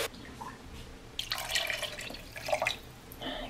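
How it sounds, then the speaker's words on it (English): Water runs and splashes into a pot holding raw chicken and broth, the pouring coming in uneven bursts of bright, gurgling spatter against a quiet indoor background, close and moderately loud. "I'm just gonna keep adding water until it's about 3/4 of the way full"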